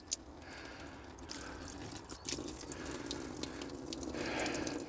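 Rainwater trickles slowly from a tap in a polytunnel, giving faint dripping and splashing over a low, steady background hiss that builds slightly toward the end.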